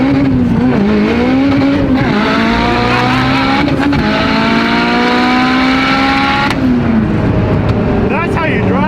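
A Mitsubishi Evo with a 2.4L engine and a Precision 6466 turbo accelerates hard, its engine pitch climbing steadily through the gears with a shift dip, loud and heard from inside the car, with voices over it.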